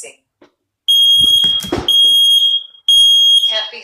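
A Nest Protect smoke alarm sounds three loud, piercing high tonal bursts, with its built-in voice speaking emergency announcements in between.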